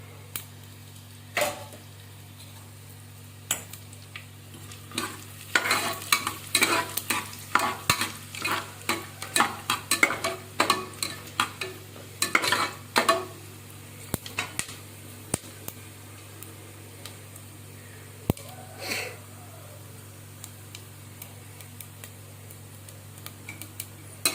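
Oil crackles and spits in a pan as chillies fry, with bursts of sharp sizzling pops and occasional clicks over a steady low hum.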